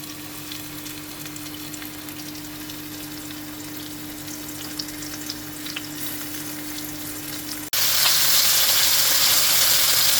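Coated chicken wings shallow-frying in oil in a pan, a close steady crackling sizzle with a faint hum beneath, then abruptly becoming a louder, harsher hiss for the last couple of seconds.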